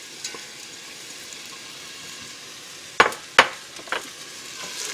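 Onions sweating in a pan under a low, even sizzle, broken by two or three sharp scraping strokes of a spoon as they are stirred. The sound is close and moderately quiet, with no voices.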